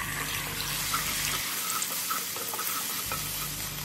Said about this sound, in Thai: ผัดกระเทียมกับน้ำมันให้หอม ใส่ไข่ลงไปผัด